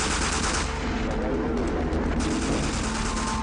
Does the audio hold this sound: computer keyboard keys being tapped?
no